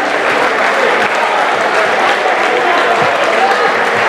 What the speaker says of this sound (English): I think both fighters deserve a big round of applause